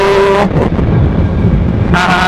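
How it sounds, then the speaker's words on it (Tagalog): A Monarch Cub 110 motorcycle engine labours at about 45 speed as though it wants a higher gear, giving a loud, close, continuous roar with wind rush and no voices. "medyo ngayong nasa 45 na yung speed natin, medyo parang nagagalit na yung makina guys, parang gusto na pang humingi ng gear"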